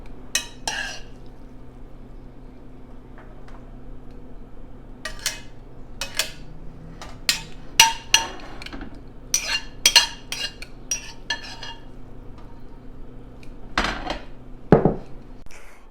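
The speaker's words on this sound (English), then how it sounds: "we're just going to be adding that right into the crock pot, into that Mexican taco seasoning cheesy sauce" Spaghetti is tossed into a Mexican taco-seasoning cheesy sauce in a slow cooker crock pot, with irregular clinks and scrapes of a utensil against the ceramic pot and soft wet squelches.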